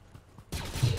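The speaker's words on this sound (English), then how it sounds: "Somebody shooting at me from behind." Gunfire in the Fortnite video game erupts as a loud, dense burst of rapid shots halfway through, following a quieter lead-in.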